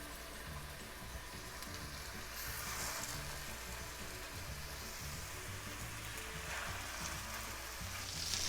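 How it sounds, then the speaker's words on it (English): Beef patties sizzle in hot olive oil in a pan, a soft, even frying hiss that swells slightly now and then, continuous and fairly quiet with no voices. "Once our oil is nice and hot, we'll put our patties in. And we want to brown these for maybe 3 to 4 minutes."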